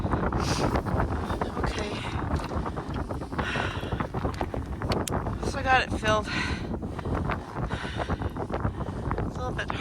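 Wind gusts through a cold winter storm with blizzard conditions, a steady broadband rush buffeting the microphone close up, while a person talks over it throughout.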